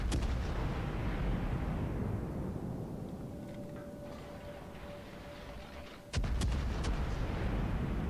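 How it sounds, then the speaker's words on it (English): Heavy naval gunfire from the cruiser Des Moines in a ranked World of Warships battle: a deep rumbling boom at the start fading away, then a sharp, loud salvo crack near the end, with no talk. "I think I'm going to try to get some harassment fire on him."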